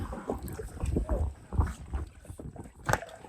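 A kayak is paddled on lake water off a campground shore, with soft uneven splashes and dips of the paddle, faint wind and light handling noise close to the microphone.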